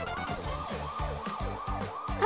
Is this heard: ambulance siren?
yes